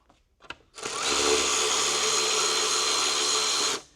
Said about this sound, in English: So I'll grab a socket on this one.